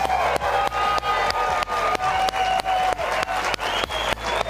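A studio audience on a basketball show applauds and cheers, rapid dense clapping with a few whoops and whistles, loud and steady across the whole stretch.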